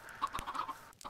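A Minecraft chicken gives a short burst of soft clucks, quiet and close, with no voices.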